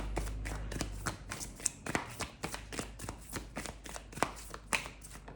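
Tarot cards shuffled by hand in a quiet room, a rapid series of crisp riffling snaps and taps, close and fairly loud, with no talking.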